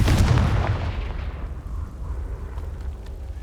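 A Confringo fire spell explodes in the Hogwarts Legacy video game with a heavy booming blast. A rumbling tail fades over about three seconds.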